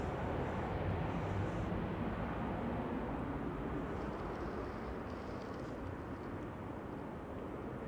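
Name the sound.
aircraft pushing back at Manchester Airport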